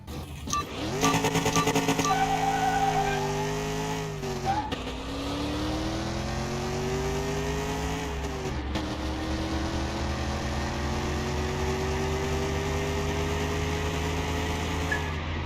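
Hyundai Tiburon engine revving hard in Car Mechanic Simulator 2021, rising in pitch through gears with shift dips around four and nine seconds, loud and steady with no talk.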